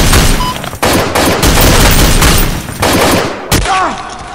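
Sustained automatic gunfire from an enemy shooter in the Sierra 7 video game, loud and dense with rapid bursts broken by brief pauses.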